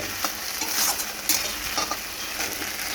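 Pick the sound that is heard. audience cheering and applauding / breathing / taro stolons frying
taro stolons frying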